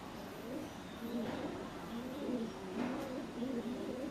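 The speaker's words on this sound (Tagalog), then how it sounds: "Tapos, may ibon." Pigeon cooing in Yuen Long Park, a repeated soft low coo that sounds fairly close, heard over steady outdoor background noise.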